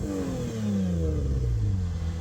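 A Toyota IS200 drift car with a new exhaust revs up nearby, the engine note rising and falling in one loud, rumbling burst.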